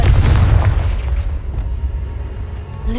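A Confringo fire spell explodes in Hogwarts Legacy, a loud, close, heavy boom at the start that rolls off into a low rumbling tail, with no voices.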